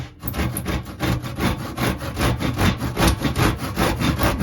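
A handsaw cuts through wood along a square guide line in a quick, even back-and-forth rhythm of rasping strokes, close up and fairly loud, with no talking.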